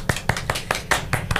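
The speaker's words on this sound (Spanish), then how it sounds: "un aplauso para Chesnardo." A few people clapping for a podcast guest, sparse, loud close hand claps in an uneven rhythm, about seven distinct claps with no talking over them.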